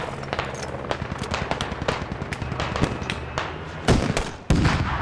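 Rapid automatic gunfire in the military shooter game Squad, dense bursts of shots crackling continuously, with two louder nearby blasts near the end.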